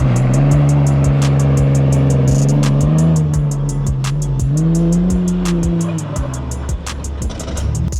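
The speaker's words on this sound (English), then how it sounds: "you gotta do a burnout, right? Albeit a weak and wimpy one" A 1995 Ford Ranger pickup doing a short, weak burnout in the desert at an off-road park, its engine droning loudly and close at high revs, rising and dipping in pitch as the tires spin.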